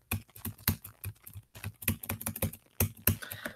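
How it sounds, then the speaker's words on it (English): Computer keyboard being typed on nearby, a run of quick, irregular key clicks in bursts with brief pauses, heard alone with no voices. "It's fucking keyboard."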